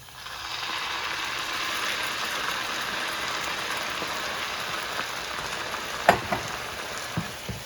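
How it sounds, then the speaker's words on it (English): A tomato mixture goes into a pan of cooked onions for chakchouka, raising a steady, close, bright sizzle that holds evenly throughout, with a few sharp clicks and pops near the end. "So we are going to add our tomato mixture."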